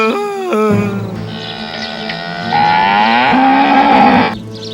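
A cow moos loudly and close by: a few short lows, then one long, drawn-out, rising moo that holds steady before it fades. No other sounds are heard.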